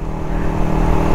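A Suzuki Raider 150 motorcycle engine with mechanical trouble runs at a steady loud idle, close up, with a dense low rumble and slight wavering and no talking.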